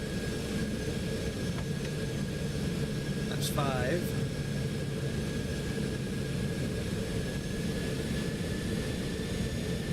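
C750 jet in the X-Plane 12 flight simulator on its landing approach with gear down, a steady loud whining engine hum with a faint rising warble briefly in the middle, under a short spoken call-out.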